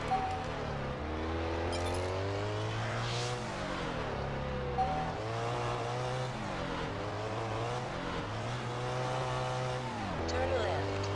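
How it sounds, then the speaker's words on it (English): A Koenigsegg supercar in Test Drive Unlimited drives off-road, its engine droning steadily and rising and falling in pitch through repeated gear shifts, loud and close throughout, with a voice talking over it. "Just off-roading with the Koenigsegg"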